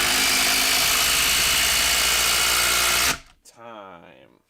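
Milwaukee or DeWalt cordless impact driver, powered by a 6 amp hour high-output or FlexVolt battery, runs continuously at full speed for about three seconds and then cuts off, followed by a brief softer whir.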